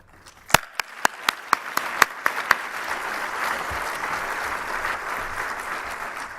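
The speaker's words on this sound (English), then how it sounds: "I'd like you to stand up and give them a round of applause" Audience applause for the judges of student design team posters, presentations and reports at a waste management congress awards ceremony: several loud, sharp claps up close over a steady wash of crowd clapping that continues for several seconds.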